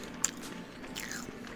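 A pork-cutlet-flavored puffed corn snack is crunched between the teeth, giving a few crisp bites and chews that are close but quiet, with no talk.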